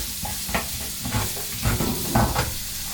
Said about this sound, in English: Let's give that a little stir through with that pepper and that garlic.